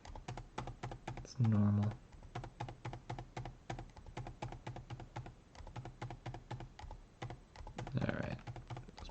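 Rapid clicking keystrokes on a computer keyboard, close and steady, with a few heavier key presses, while a person talks quietly at moments underneath.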